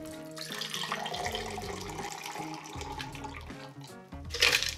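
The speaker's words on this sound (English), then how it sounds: "Important is that you first strain the drink into the glass and then add the ice." A Tom Collins cocktail is strained into a Collins glass before ice goes in, giving a steady close pour of liquid that runs for several seconds, with a brighter splashing burst near the end.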